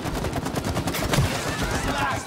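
Rapid gunfire in the co-op game It Takes Two, a dense rattling burst of shots running the length of the clip, loud and close, with mixed-in game noise.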